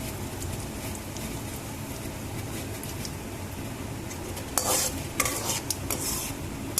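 Chana dal and other dals roasting in a pan with asafoetida for semolina upma, stirred steadily with a spoon; a continuous dry scraping and light sizzle, close and loud, with sharper clinks and scrapes near the end and no talking.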